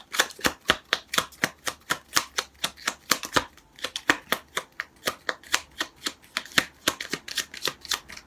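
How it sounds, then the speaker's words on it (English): Tarot cards shuffled close by in quick, steady riffles and soft slaps, each burst crisp and evenly spaced, with no voices over them. "So while I'm shuffling"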